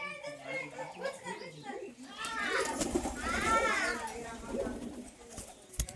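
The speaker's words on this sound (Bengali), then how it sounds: "তো চলো আরও কিছু ম্যাট্রাস পায়রা দেখবো" Matras pigeons coo in a loft, with soft repeated cooing mixed with nearby people and children talking.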